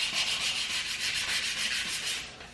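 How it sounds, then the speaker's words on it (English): Sandpaper rubs back and forth over curb rash on an aluminum wheel from a BMW E90 335i, making a close, rhythmic scratchy hiss of steady strokes with no talking. "you want to up sand in that type of motion so you don't create streaks or sanding lines"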